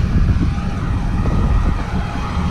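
Strong wind blows hard across the microphone in a snowy plowing setting, a steady loud low rumble with no other clear sounds.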